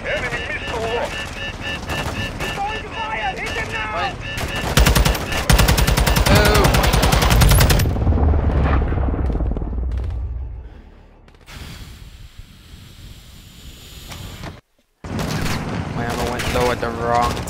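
Rapid automatic gunfire and heavy bursts in the Call of Duty Modern Warfare 2 campaign rattle loud and dense for about ten seconds, fade into a quieter lull, then resume after a sudden cut.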